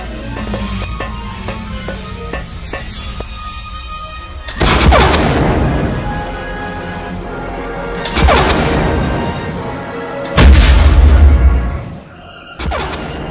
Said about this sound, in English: It's gonna explode in 10 seconds!